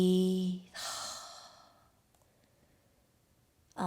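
Deep breathing during a yoga flexibility flow: a voiced sigh-like exhale followed by a long, airy breath that fades out, with a brief breath at the end.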